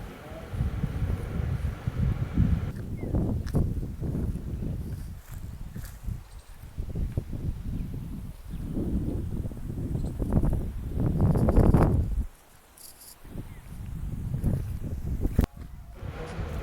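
Wind blows across an open farm field with guava trees and cotton, rumbling and buffeting close at the microphone in uneven gusts, dropping briefly before picking up again.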